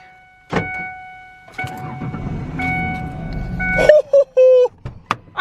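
A Ford Ranger truck cranks with a thunk and whirring starter, then the engine briefly catches and runs unevenly before cutting off, with short sharp bursts after; near and loud, with some voices.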